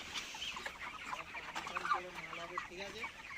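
Chickens clucking at a poultry farm, several birds making overlapping short rhythmic clucks and murmurs at moderate distance, fairly faint, with a hint of a voice in the background.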